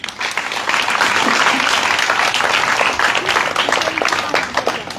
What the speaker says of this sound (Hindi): उनके लिए बहुत सारी तालियां।